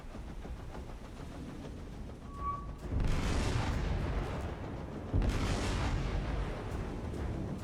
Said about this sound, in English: We need to start firing on this cruiser with our own heavy cruisers in kind.